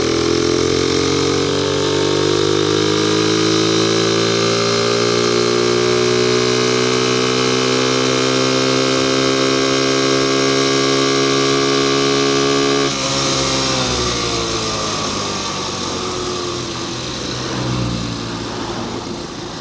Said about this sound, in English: It's actually amazing how well this bike is running.